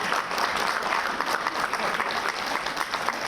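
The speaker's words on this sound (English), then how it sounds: "I think now you need to give a big applause to" Dense, steady audience applause fills the hall at a book cover release event honoring Dr. C.R. Parthasarathy's Geotechnical Challenges, many hands clapping continuously at even loudness with no voices over it.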